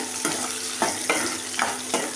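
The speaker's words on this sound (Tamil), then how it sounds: "இப்போ பூண்டும் சின்ன வெங்காயம் போட்டு நல்லா வணக்கிக்கலாங்க" Garlic and small onions sizzle in hot oil in a pan, loud and close, with a spoon scraping and stirring in a steady rhythm of several strokes.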